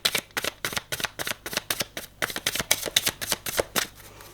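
A deck of tarot cards is shuffled repeatedly, producing a quick rhythmic series of crisp riffling bursts, close and clear with no talking.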